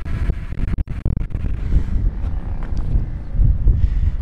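Strong mountain wind buffets the microphone in loud, low rumbling gusts, with brief dropouts early on and then steady heavy blustering.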